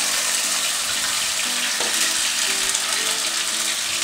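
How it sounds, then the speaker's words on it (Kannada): Onion paste sizzles steadily in hot ghee, a dense, continuous frying hiss close to the pan with faint stirring scrapes throughout. "ಈರುಳ್ಳಿಯ ಹಸಿ ವಾಸನೆ ಹೋಗೋ ತನಕ ನಾವು ಇದನ್ನು ಸರಿಯಾಗಿ ತುಪ್ಪದಲ್ಲಿ ಫ್ರೈ ಮಾಡ್ಕೊಳ್ಬೇಕು"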